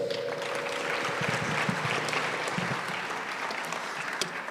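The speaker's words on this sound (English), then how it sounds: "Let's give her another round of applause." Crowd applause at a civic centre open day and automotive showcase, a continuous, moderately distant patter of many hands with a faint low hum underneath.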